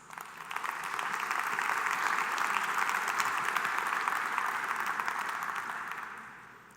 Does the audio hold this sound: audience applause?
yes